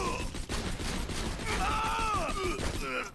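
Gunfire in Borderlands 2 keeps up a dense, continuous clatter of shots close by for the whole stretch, with whistling, swooping tones rising and falling through the second half.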